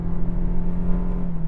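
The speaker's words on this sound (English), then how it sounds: "It does this thing when you accelerate hard, it holds the revs at a constant RPM for maximum power, and it just makes that mooing sound." A new Toyota Prius is floored on a freeway onramp, and its CVT gearbox holds the engine at constant revs. The result is a loud, steady, droning moo from inside the cabin, with no rise in pitch.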